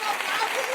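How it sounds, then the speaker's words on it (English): A brief burst of audience applause, a short even patter of clapping that carries on steadily without pause. "Let me give you another applause."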